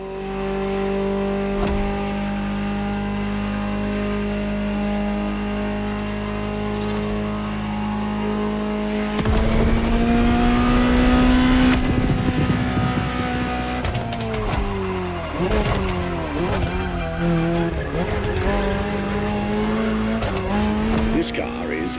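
A Ferrari 308-based GTO in The Crew Motorfest holds a steady engine drone, then revs hard with screeching tire squeal and skidding, its pitch rising and falling through shifts, while a voice talks over it.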